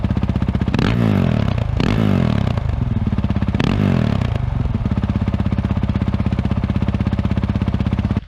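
A Honda CRF450L engine with a Yoshimura RS4 exhaust and spark arrestor revs loudly and continuously. Several sharp throttle blips rise over a steady, close idle rumble.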